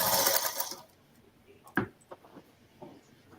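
A sewing machine stitches a quilt in a fast, loud whirring burst at the start, then stops, leaving scattered clicks and handling knocks of fabric and thread.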